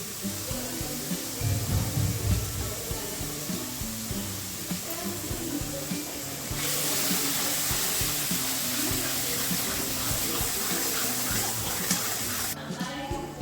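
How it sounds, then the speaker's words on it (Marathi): Spice masala roasting in oil on a low gas flame for mutton curry, a steady close sizzle and crackle with faint stirring, continuous throughout and growing slightly louder and brighter partway through. "इथे मसाला भाजतोय आपण हे सगळे मसाले टाकले आहेत मम्मीने"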